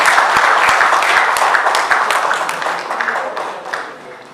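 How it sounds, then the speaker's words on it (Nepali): A crowd applauds steadily at a Junior Chamber (JCI) office-handover ceremony in Nepal, dense clapping that holds strong and then gradually thins and fades toward the end. "ससम्मान जोरदार तालीले स्वागत गरिदिनका लागि अनुरोध गर्न चाहन्छु"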